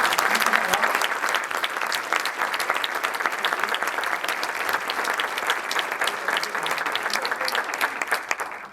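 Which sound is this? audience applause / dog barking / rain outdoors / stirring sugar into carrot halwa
audience applause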